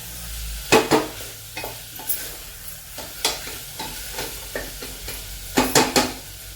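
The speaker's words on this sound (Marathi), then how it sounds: "हे सुद्धा आपण छान असं परतून घेत आहोत चवळी" Cowpeas being stir-fried in a spice masala for chavli aamti, with repeated scraping and stirring strokes of a spoon in a sizzling pan, fairly close, in irregular bursts with no talking.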